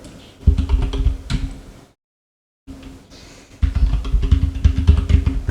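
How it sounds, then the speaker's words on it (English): Quick bursts of typing on a computer keyboard, clacking keys in close, dense runs, broken by a brief pause of silence before a second, louder flurry of keystrokes. "you can just press on Windows plus R, and then here you can type Control Folder"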